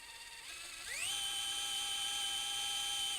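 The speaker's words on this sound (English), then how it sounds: "we want to over drill with our 4 millimeter cannulated reamer" Surgical drill spinning a 4 mm cannulated reamer during knee ligament reconstruction, a steady high whine that ramps up in pitch as it spins up and then holds a sustained tone.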